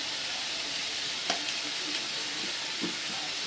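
Onion and tomato sautéing with chili powder and sambar powder for hotel-style sambar, a steady loud sizzle with a few soft stirring clicks and scrapes.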